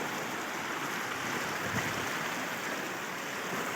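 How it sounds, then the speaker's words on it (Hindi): Glacial meltwater running down from a glacier in the mountains makes a steady, broadband rushing wash, continuous and fairly close, with some wind mixed in. "ये देखें ग्लेशियर से नीचे तो पानी आ रहा है"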